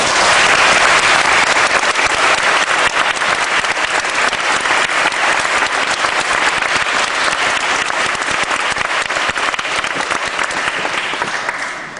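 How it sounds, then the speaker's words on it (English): Steady, dense applause from an audience at an eighth-grade graduation ceremony, loud and sustained throughout before tapering slightly at the end. "Please give them a round of applause."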